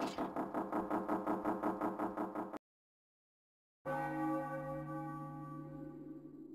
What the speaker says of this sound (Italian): L'ultimo rintocco.